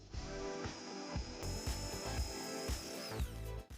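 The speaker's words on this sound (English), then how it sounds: "Now we need to drill a hole in it." A power drill bores a hole through a cutout part from a water meter, a steady whining motor with a high tone that drops off near the end, close and loud with no talk.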